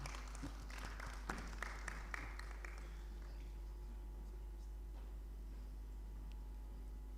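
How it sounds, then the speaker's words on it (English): An audience at an African debate event claps, with a quick scatter of applause in the first few seconds that fades to a quiet room; faint and distant. "I ask that you give them another round of applause"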